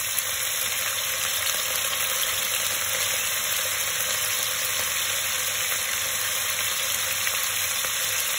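Spare ribs frying in a pan as Chinese wine is added, giving a loud, steady, continuous sizzle that fills the whole stretch, close up and with no talking.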